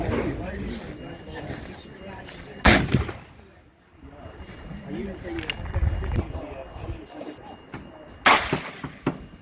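Black powder rifle shots at an outdoor target shooting match, two sharp loud cracks several seconds apart, each ringing out briefly, amid ongoing conversation and background chatter from shooters nearby.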